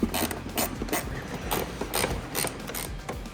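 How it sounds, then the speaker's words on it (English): A ratchet wrench clicks away at a lower clutch cover bolt on a Polaris Sportsman or Scrambler 850/1000 ATV during a clutch kit install, with quick bursts of close, crisp ratcheting separated by short pauses. "This is one where I like the ratchet wrench because it fits right up in the hole here to get this lower bolt out."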